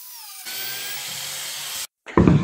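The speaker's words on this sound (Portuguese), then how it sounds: "vou baixando devagar para poder fazer o furo, poder fazer a fresa" A biscuit joiner plunge-cuts slots into wood for a coffee table, giving a high steady whine that halts briefly and then returns as a louder, rougher cutting burst, with no speech.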